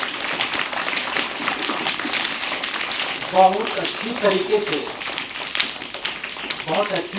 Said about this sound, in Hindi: उसके लिए एक बार जोरदार ताली होना चाहिए